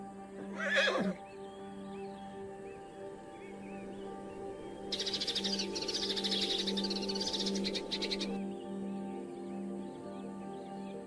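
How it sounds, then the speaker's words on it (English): Hooves of migrating herd animals on the Maasai Mara plains: a brief whinnying call opens, then a rapid clatter of hoofbeats lasts a few seconds under faint bird chirps. "The sound of hooves grows louder across the plains."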